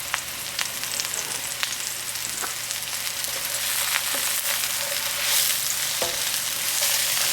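Chicken and mushrooms in a stir fry sizzle steadily in a hot pan, a continuous bright crackling hiss broken by occasional sharp clicks of the utensil against the pan, with no voices over it.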